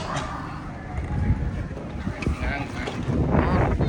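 Wind buffets the microphone on an outdoor cruise ship deck in the Bahamas, a continuous rough low rumble with gusts rising toward the end, under a voice talking.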